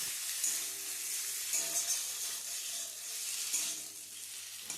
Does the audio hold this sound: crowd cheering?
no